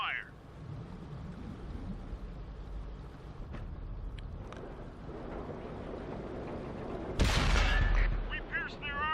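A tank cannon fires once in a tank battle game on the Sand River map, a sharp loud blast late in the clip followed by ringing debris and metallic clatter, over low engine rumble and a quiet speaking voice.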